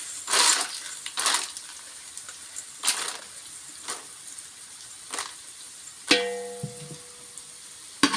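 Roasted gram being tipped into a dish for Uttar Karnataka chhoda, heard as a few short, dry crunchy rattles and scatters spaced over several seconds, followed by a brief clink of a utensil, with no talking.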